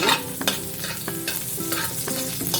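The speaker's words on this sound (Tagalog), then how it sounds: "igisa natin yung bawang" Garlic sautés in a pan as the start of a pork caldereta, with a constant sizzle broken by repeated close scraping strokes of a spatula in an uneven rhythm.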